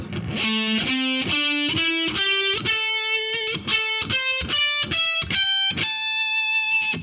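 A heavy metal electric guitar with distortion plays a two-octave pentatonic scale, about a dozen picked notes rising steadily from low to high in an even rhythm, loud and close with no talking.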